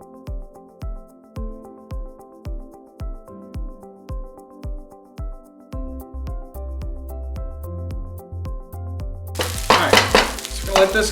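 Pulled pork fried rice hits a hot pan near the end with a loud, steady sizzle and scraping of rice, after several seconds of rhythmic background music with no cooking sound.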